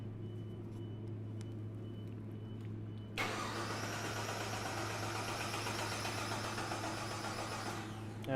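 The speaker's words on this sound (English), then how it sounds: "So go ahead and crank it over, Fritz." A car engine is cranked over by its starter during fuel trim diagnosis of rich and lean conditions, opening with a low steady hum, then a sudden loud, continuous churning crank that runs several seconds before cutting off, close and without talk.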